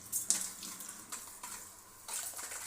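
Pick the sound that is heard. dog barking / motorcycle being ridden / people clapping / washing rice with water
washing rice with water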